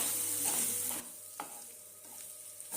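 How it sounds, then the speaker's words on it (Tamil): Potato masala being stirred and fried in a pan, a steady close sizzle with a few scraping clicks of the spoon against the pan, no talk. "இந்த மசாலா எல்லாமே நல்லா பிடிக்கிற மாதிரி நல்லா கலந்து விட்டுறணும்"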